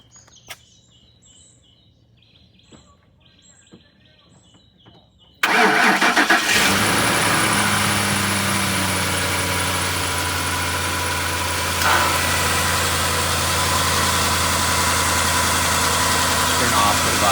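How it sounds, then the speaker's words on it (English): Truck engine starting after a jumpstart of a dead battery: a quiet stretch with faint beeps, then the engine cranks and catches, settling into a loud, steady rumbling idle. "Okay, now go and start the truck."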